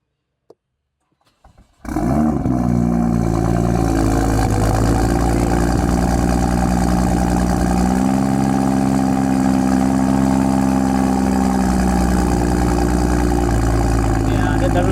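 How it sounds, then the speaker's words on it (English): A BMW M2 with its N55 engine and custom exhaust starts up after near silence, then holds a loud, steady idle with a slight rise in revs partway through, close to the microphone. "Oh, I heard that it has a custom exhaust. Let's listen to it."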